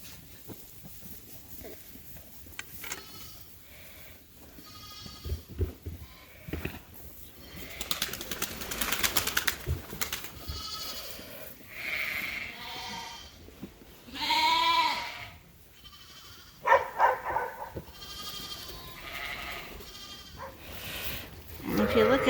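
Dorset sheep and lambs bleat repeatedly in a large flock gathered around a feeder, calls overlapping near and far, with some talking mixed in.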